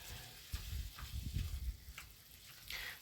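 Lean ground beef, 93% lean, fries in a pan: a quiet, close sizzle with soft stirring scrapes and bumps, a few louder bursts midway and no voices.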